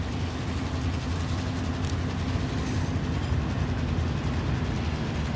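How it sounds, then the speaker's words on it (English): A train rolls past in Call of Duty: Warzone, a steady low rumble with rhythmic clacking that holds evenly throughout, close and fairly loud. "You wanna take the train?"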